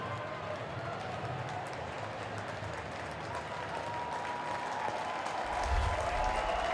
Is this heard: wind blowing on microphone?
no